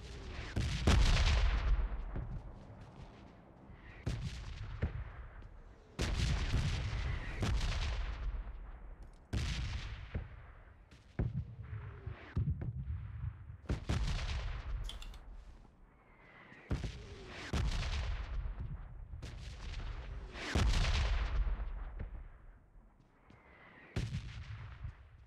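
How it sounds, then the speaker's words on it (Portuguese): Red-zone bombardment in PUBG Mobile, with a steady run of loud bomb impacts. Each one lands as a sharp crack and a deep boom, repeating every second or two for the whole stretch with no talk. "Tem bomba caindo aqui."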